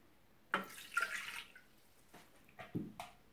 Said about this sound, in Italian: Inseriamo nel boccale l'acqua